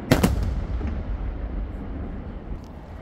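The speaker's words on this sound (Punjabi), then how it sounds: "ਵੇਖਿਆ ਤੁਸੀਂ ਫਾਇਰ ਵਰਕ ਵੀ ਵੇਖਿਆ ਜਨਾਬ" A festival fireworks display in Malta opens with a couple of sharp, loud bursts, then a long rolling rumble and crackle fading slowly, with a faint pop near the end.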